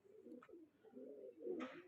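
Pigeons coo softly in low, rounded phrases, a couple of overlapping calls close by, with a brief brighter flutter or rustle near the end; quiet overall.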